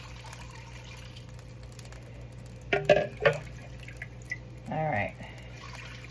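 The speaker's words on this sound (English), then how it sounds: "And we'll just pour this over our meat and vegetables." Broth ladled and poured over short ribs and vegetables in a pot: a couple of quick splashes followed by a short pouring gurgle, with a brief spoken remark.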